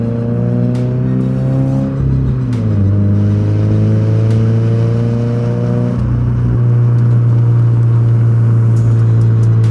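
A 2022 Subaru BRZ fitted with a new aftermarket exhaust revs loudly and steadily up close, its engine note dipping and rising again twice across the stretch, with a deep droning rumble throughout.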